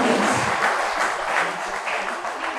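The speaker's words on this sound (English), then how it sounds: "I request everyone to clap the students and motivate them as they graduating students." An audience claps for graduating students at a college convocation ceremony, a dense, steady round of applause from a large hall crowd, loud and sustained throughout.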